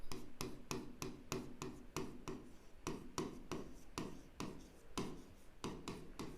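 Pen strokes on paper while filling in a petty cash book entry, a steady series of short scratchy strokes repeating in quick rhythm, close and fairly quiet, with no voice.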